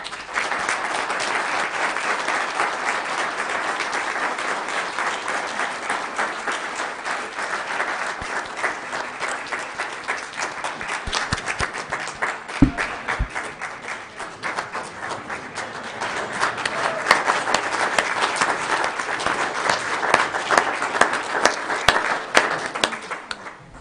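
A county meeting audience applauds its four elected officials in sustained, dense clapping from many hands that holds for over twenty seconds, swelling slightly near the end with a few sharper individual claps standing out.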